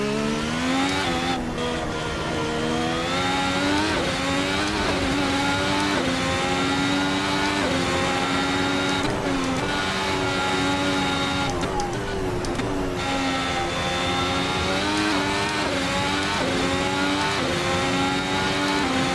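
Formula 1 race car driven at full throttle, heard from the onboard position: a loud, sustained high-pitched engine whine with harmonics that rise and fall briefly through gear changes, continuous for the whole stretch, no voices.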